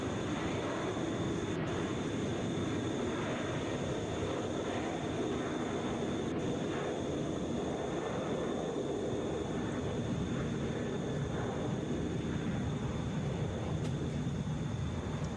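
A Delta Boeing 737 airliner at Atlanta airport produces a steady, broad engine roar, constant and moderately loud throughout with no voices.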